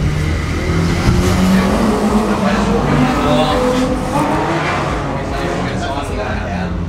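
A car drifts on a wet track during a drift event in New Zealand, its engine roaring loud and steady throughout with tire noise, while people talk over it.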